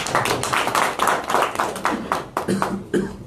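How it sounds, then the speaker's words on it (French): An audience at an M5-RFP diaspora press conference claps for the vice-president, distinct hand claps coming in quick uneven bursts, close and fairly loud in a room. "Applaudissez-le, s'il vous plaît."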